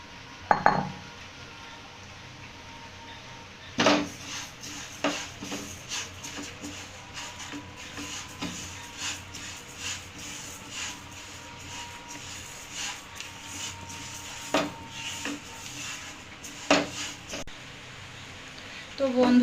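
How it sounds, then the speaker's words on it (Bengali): Dry lentils (dal) are stirred in a hot dry pan, with a utensil scraping and clinking against the metal at irregular intervals. A faint background hiss runs throughout. "এবার আমি ডালটা নেড়ে চেড়ে একটু ভেজে নেব"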